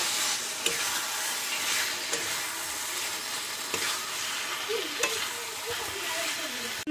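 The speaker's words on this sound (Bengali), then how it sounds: "এটাকেও ভালো করে ভেজে নেব।" Meat fries with spices in a pan, sizzling steadily at a moderate level close by. Periodic stirring scrapes and taps run through it, and a faint voice comes in briefly.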